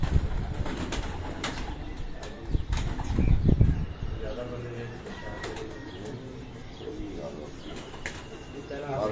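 A flock of pigeons released from a rooftop loft, wings flapping in a loud burst of flutter mid-way, with soft cooing and outdoor murmur around it and people talking nearby.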